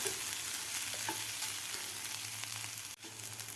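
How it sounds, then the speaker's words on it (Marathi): Potato thecha sautés in a pan with a close, continuous sizzle and scraping stir strokes, easing off briefly near the end before resuming. "बटाटा घातल्यानंतर मी दोन ते तीन मिनिट हे ठेचा परतून घेतलेला आहे"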